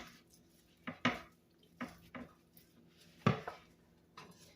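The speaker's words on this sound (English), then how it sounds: "How the cream cheese and cheese is getting mixed in with that spinach." Spoon scraping and clinking in a bowl while cream cheese, cheese and spinach are mixed into a dip, several distinct clacks spaced a second or so apart over quiet background, with no talk.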